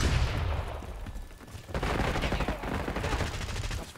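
A flashbang and rapid gunfire in a Hardpoint match of the video game Call of Duty Black Ops 6 form a loud, dense barrage of shots and blasts that runs continuously with a brief dip midway.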